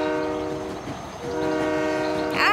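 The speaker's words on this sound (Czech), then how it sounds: "Já jsem lokomotiva Larry. Cirkusový vlak." Cartoon circus train locomotive sounds a long, steady, tonal horn that holds for over two seconds at close range, ending with a brief higher squeal of the wheels.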